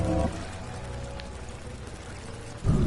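Water pouring in a horror video game, a soft continuous trickle heard faintly and steadily between louder thumps at the start and end.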